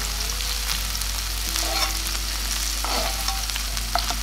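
Paneer shallow frying in a pan for a dhaba-style paneer masala, a soft continuous sizzle with light stirring scrapes, steady and close under a low hum.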